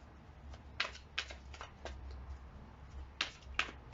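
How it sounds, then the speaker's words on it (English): Crisp, papery tarot cards shuffle in short bursts, several riffles spaced a second or so apart, close and fairly quiet with no talking. "One more shuffle."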